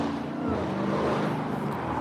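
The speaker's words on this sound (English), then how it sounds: "Somebody has a loud ass car." A loud car passes along a city street, its broad engine roar steady and close for the whole moment, heard while walking outdoors.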